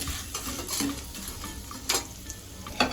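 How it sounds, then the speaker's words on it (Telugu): Bitter gourd pieces fry in a pan with a soft, steady sizzle, broken by a few sharp scraping and clinking stirring strokes; nobody speaks. "ఇప్పుడు ఈ కాకరకాయ ముక్కలు వేస్తున్నా,"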